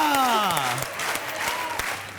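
A studio audience at the TV game show Dus Ka Dum breaks into dense, close applause that fills the moment, with a voice talking over it.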